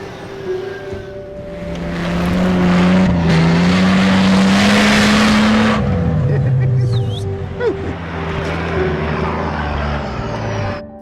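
Off-road vehicles in a convoy crawl over obstacles on a farm trail, with a loud, steady engine drone that rises and falls in pitch as they climb, then eases off, with voices faintly underneath.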